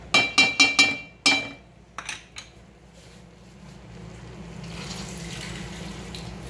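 Water poured into a cooking pot of simmering lentils after several metallic clanks and taps against the pot; the pour is a steady, soft rushing that swells toward the end.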